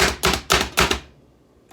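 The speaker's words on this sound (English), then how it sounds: "Just a few touches of this food chopper, and these onions are looking good" Three or four quick, sharp chopping thuds of a food chopper cutting onions in a fast rhythm, close and fairly loud, then quiet, with one last faint tap at the end.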